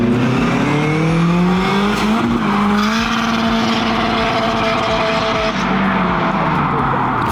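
Small toy cars run on highway rollers, giving a loud, continuous, high-pitched motor whine that rises and falls in pitch with faint rattling underneath. No one speaks.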